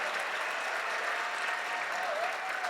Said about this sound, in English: I wish you could see the people giving you the applause